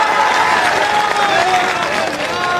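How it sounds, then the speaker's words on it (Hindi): A crowd at a political road show claps loudly and continuously, with dense, unbroken applause and some cheering voices mixed in throughout the short burst. "मैं चाहती हूँ जोरदार ताली बजा के स्वागत करें"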